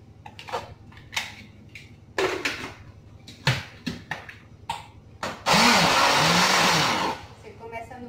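An electric blender whirs loudly and steadily for almost two seconds, blending garlic and onion paste with salt and a thin stream of oil, after a series of short knocks and clatters.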